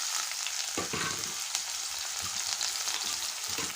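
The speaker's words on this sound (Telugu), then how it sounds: "ఆయిల్ అయితే హీట్ అయిందండి ఇంకా జీలకర్ర వేసాను అలాగే పచ్చిమిర్చి ఆనియన్స్ యాడ్ చేసుకుంటున్నాను" Cumin seeds, green chillies and onions frying in hot oil for a cauliflower curry, a steady close sizzle and crackle with a few soft stirring knocks, no talking.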